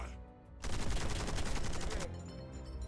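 A huge chain of explosions in the digital card game Warhammer 40,000: Warpforge, set off by Squig Buggy cards: a dense, loud burst of rapid crackling blasts lasting over a second, then a quieter rumbling tail.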